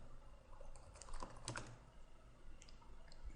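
Faint typing on a computer keyboard, a short burst of keystrokes under a steady low room hum, with no voices.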